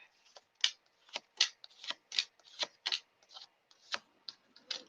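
Tarot cards being shuffled in a series of crisp, rapid riffling bursts that come in quick irregular pulses, close and clear with no talking.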